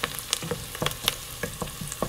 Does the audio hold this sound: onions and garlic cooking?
yes